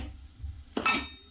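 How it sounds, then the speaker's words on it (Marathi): A large kadhai (wok) set down on a hard surface in a home kitchen while preparing dry fruit laddu, making one sharp, loud metallic clank that rings on briefly after a quiet moment. "तर इथे मी हे कढई ठेवली आहे मोठी."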